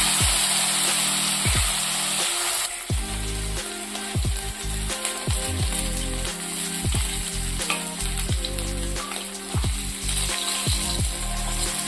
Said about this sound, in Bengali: মাছগুলো ভালো করে দেখি ভেজে নেব।